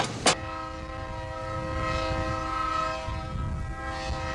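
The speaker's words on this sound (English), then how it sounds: "This train leaving the station marks the end of a railroad, the end of an era, and the end of a lifestyle for these men." A departing train on the OKT railroad sounds a long, steady horn that holds throughout, with rumbling wheels beneath it and a sharp click at the start.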